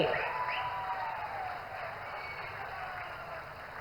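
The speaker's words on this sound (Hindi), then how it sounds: "तालियां होती रहे आपकी ओर से" Steady audience applause at a public ceremony welcoming the Prime Minister at the HURL Sindri urea plant event fills the whole stretch at moderate volume, a dense even wash of many hands.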